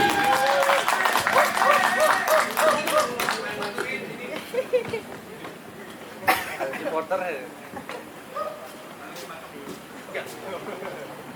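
Audience applause and cheering at a stand-up comedy show in Cirebon, a dense clapping wash that swells early then thins, mixed with crowd noise and loud speech and music over it.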